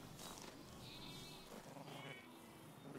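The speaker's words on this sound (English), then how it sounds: "The arrival of cattle and sheep disturbs the calmness of the valley." Sheep bleat in an autumn valley as cattle and sheep arrive, several calls rising over a steady outdoor background at moderate distance.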